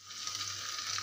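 Garlic fries in a ladleful of hot ghee, giving a brief, steady bright sizzle with no voices.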